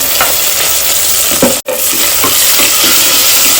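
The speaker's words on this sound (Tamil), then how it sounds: "தக்காளியும் வெங்காயமும் ஓரளவுக்கு வதங்கிடுச்சு" Onions and tomatoes sauté for sambar with a loud, dense, continuous sizzle, close and steady, with a few stirring scrapes and a brief dropout partway through.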